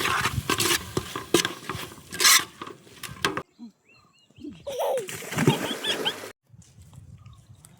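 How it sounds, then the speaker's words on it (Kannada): Mutton head frying with soy sauce in a pan gives off bursts of sizzling and stirring that stop for short quiet gaps. "ಈಗ ಇದನ್ನು ಚೆನ್ನಾಗಿ ಫ್ರೈ ಮಾಡ್ಕೊಳ್ಳೋಣ"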